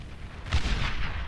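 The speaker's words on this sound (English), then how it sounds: "And just look at these chain explosions." Deep booms of chain explosions in the real-time strategy game Beyond All Reason, set off as a base and an advanced fusion reactor are destroyed, rumble together in a dense, rolling burst without speech.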